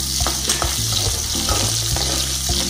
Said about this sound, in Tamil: கடுகு பொரிஞ்சதும் சின்ன வெங்காயமும் கருவேப்பிலையும் ஆட் பண்ணிக்கலாம்.